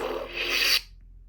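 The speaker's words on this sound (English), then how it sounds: "So that's my shutoff sound." A Cal Kestis toy lightsaber's buzzy, hissing hum sweeps for under a second as it shuts off, then cuts off abruptly into near silence.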